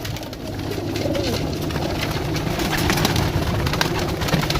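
Pigeons cooing close by, soft low repeated coos layered over a steady outdoor background hum with faint traffic.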